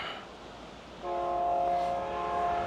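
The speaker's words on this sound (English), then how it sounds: "Oh, train's coming." A train approaches outdoors, heard from an e-bike ride with a steady rumble that swells as a sustained tonal horn sounds from about one second and holds to the end.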